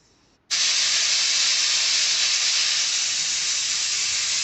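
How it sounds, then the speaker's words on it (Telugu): A pressure cooker with mutton paya inside lets out steam in a sudden loud, continuous hiss that starts after a brief quiet moment and holds steady and close to the end. "ఒక 6 కానీ 7 కానీ విజిల్స్ రానివ్వండి."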